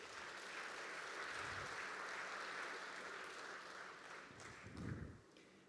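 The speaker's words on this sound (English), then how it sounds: "Give yourselves a hand of applause." A real estate conference audience applauds, producing a faint, steady wash of clapping that continues for several seconds with a low thump near the end.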